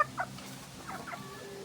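A chicken clucks softly a few times, short throaty calls close by against a quiet background.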